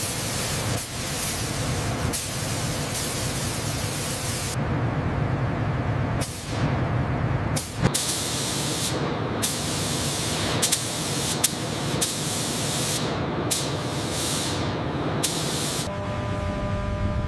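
Spray coating applied to an M1126 Stryker armored vehicle in a factory, with loud hissing bursts of spray that start and stop repeatedly, close and up front.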